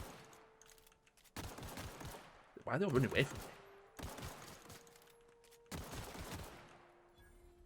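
Video game gunfire plays on high settings, rendered by a Radeon RX480, as bursts of shots and a sharp volley rise around 3 seconds amid game ambience, while someone talks over it.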